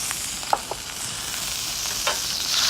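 Stock swirled around a hot paella pan gives a steady, close sizzle with a few faint splashy clinks, heard alone without talk.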